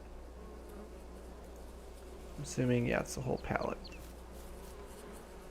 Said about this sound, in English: So the bees are doing awesome.